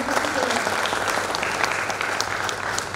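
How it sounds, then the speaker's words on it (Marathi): Audience applause for a guest speaker at a college programme, dense steady clapping from a crowd filling the hall, loud and continuous throughout. "सर्वांनी एकदा जोरदार टाळ्या आपण त्यांच्यासाठी केल्या."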